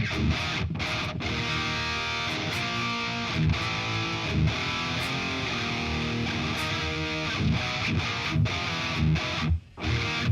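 Heavily distorted electric guitar through an STL AmpHub amp simulator plays loud sustained chords and riffs with a thick, saturated tone, briefly cutting out near the end.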